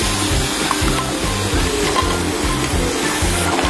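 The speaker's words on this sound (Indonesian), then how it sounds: "masukkan nih kacang yang sudah saya blender tuh. Masak bersama bumbu tadi." Blended peanuts cook with spice paste in a pan, giving a steady sizzle with rhythmic scraping strokes of a spoon stirring about twice a second, close and continuous with no talking.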